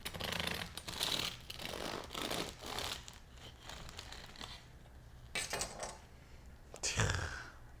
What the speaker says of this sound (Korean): 제가 이거 한번 잘라 볼게요.